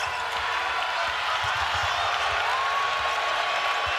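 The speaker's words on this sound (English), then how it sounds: "Crowd trying to help the Buffaloes, making some noise." A college basketball arena crowd roars steadily in support of the Colorado Buffaloes during a men's game against Montana State, a dense, continuous wall of cheering and noise with no break.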